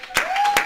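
Audience at a comedy competition awards announcement clapping for a comedy team, short bursts of applause with a sustained tone running through, loud and close.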